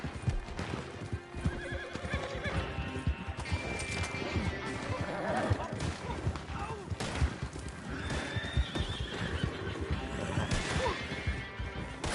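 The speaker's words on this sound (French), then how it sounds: "Alors, moi, je prends un cheval blanc." In the Red Dead Online video game, a horse whinnies loudly and hooves clip-clop in busy rhythm, mixed with crashes and thuds, while players talk in French over the game sound.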